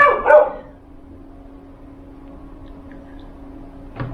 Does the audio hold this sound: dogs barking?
yes